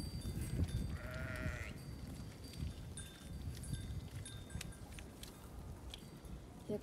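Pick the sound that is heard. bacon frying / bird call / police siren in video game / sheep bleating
sheep bleating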